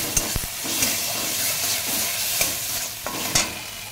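Spices fry with turmeric and salt in a pan, giving a loud, continuous sizzle close by, with occasional sharp knocks and scrapes as a spoon stirs.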